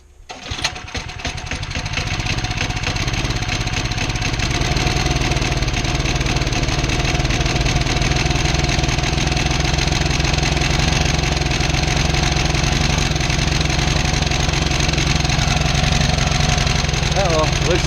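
An old Snapper riding lawn mower engine sputters to life and then settles into a steady, loud idle that runs unbroken, its low rumble close and constant with no talking over it.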